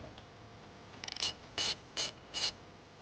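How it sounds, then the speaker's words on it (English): Ratchet with a 13mm socket removes a battery terminal nut on a 2014-2021 Jeep Grand Cherokee, a quick run of clicks followed by three separate short ratcheting strokes, close and fairly quiet. "we're going to go ahead and remove the battery terminal nut. And we're going to use a 13mm socket."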